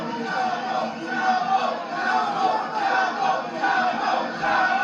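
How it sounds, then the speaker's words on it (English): A large crowd around a boxing ring roars and cheers during a professional bout, a loud swelling wash of voices rising and falling in waves throughout. "Crowd around the ring, very supportive of Chapo Rosario."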